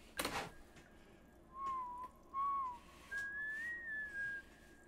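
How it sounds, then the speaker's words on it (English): A man whistles a short, soft melody in a music video, in several separate phrases rising in pitch, after a sharp click at the start and with no talking over it. "all of a sudden you hear him whistling too"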